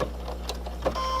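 A sewing machine runs a short back-stitch to lock a seam while making a mast with a filter pocket, giving a brief close whirring buzz with small pulses over a steady low hum.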